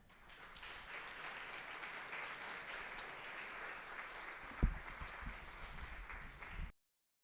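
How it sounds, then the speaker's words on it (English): Audience applause at a university truth and reconciliation forum, a steady wash of clapping that builds quickly, holds at moderate level with a couple of louder thumps near the end, then cuts off abruptly. "And so one more round of applause for Shirley, Trevor, Judy, and Marnie."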